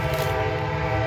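A passing train sounds its horn in a sustained loud blast, with the rumble of the rail cars underneath, alone and close.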